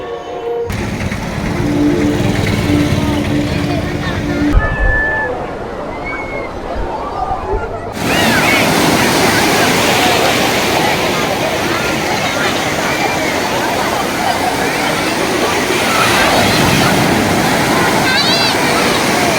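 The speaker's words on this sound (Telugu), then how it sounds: "ఇదే పేరుపాలెం బీచ్. ఇది పశ్చిమ గోదావరి జిల్లాలో ఉన్న బీచ్ అనమాట." Waves wash and churn continuously on Perupalem beach in West Godavari, a broad, loud rushing surf that grows fuller partway through and continues steadily to the end.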